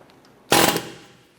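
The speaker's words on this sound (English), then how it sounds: "We're gonna use our air hammer and we're gonna put it right in the center here to try and loosen this up." A single sharp air hammer burst strikes the center of a stuck CV axle on a 2007-2012 Nissan Versa, loud and close, with a ringing decay that fades over about a second.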